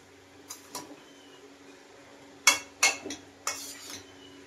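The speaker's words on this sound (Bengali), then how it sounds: "তাই আমি খুব সুন্দর করে একটু নেড়ে ছেড়ে ঢেকে দেব।" Mutton with dry ground spices and a little water gets stirred in a pot, a spoon scraping and clinking in a few sharp, uneven strokes, close and clear with no talk.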